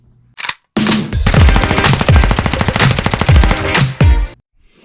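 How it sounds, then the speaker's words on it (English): A Canik SFX Rival pistol fires a fast, loud string of shots up close, cracks coming in rapid succession for several seconds, bracketed by a couple of isolated reports, with no talking. "First shots with the brand new CANIK"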